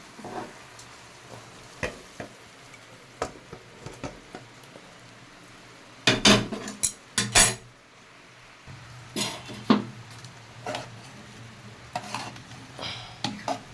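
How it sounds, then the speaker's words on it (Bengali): Spice masala is stirred in a cooking pot with a utensil, producing irregular scraping and clattering strokes with a faint sizzle underneath, louder in a cluster of scrapes partway through. "ভালো করে মিশিয়ে নিচ্ছি আমি মশলাটা।"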